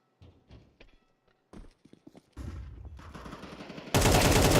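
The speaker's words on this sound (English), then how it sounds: "There's a flashbang to activate a peek" Flashbang grenade and gunfire in a Counter-Strike esports match, scattered thuds and shots building to a sudden loud burst at the end.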